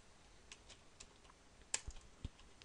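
Faint keystrokes on a computer keyboard while working in an Excel spreadsheet: a few soft, scattered taps over low background hiss, with one sharper click near the end.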